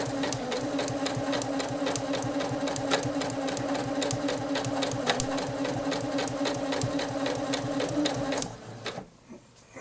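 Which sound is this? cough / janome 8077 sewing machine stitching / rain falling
janome 8077 sewing machine stitching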